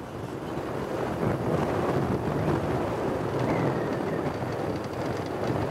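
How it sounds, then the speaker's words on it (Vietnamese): Strong wind sweeps across an open rice field in the countryside, a continuous loud rushing roar buffeting the microphone throughout, with no talking. "Các bạn thấy có cánh đồng gió ghê không?"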